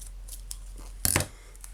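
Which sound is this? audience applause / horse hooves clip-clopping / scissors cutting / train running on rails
scissors cutting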